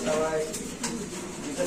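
Lahori pigeon, a large feather-footed breed, cooing softly in short bursts on a pigeon farm, close by, with someone talking over it.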